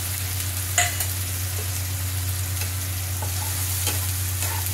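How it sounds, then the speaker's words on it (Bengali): Onion paste frying in oil for a pomfret and mango curry gives a steady, close sizzle over a low constant hum, broken by occasional light scrapes and clicks. "এখন পেঁয়াজটা ভাজা হোক একটু"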